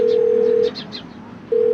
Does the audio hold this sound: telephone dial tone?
yes